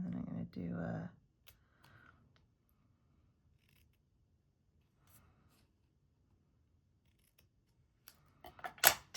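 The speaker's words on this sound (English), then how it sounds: "I'm just going to trim it a little bit here" Scissors trim a paper sentiment for a Christmas card craft in a few short, quiet snips at the start, followed by near silence with faint handling and a brief burst of crafting clatter at the end.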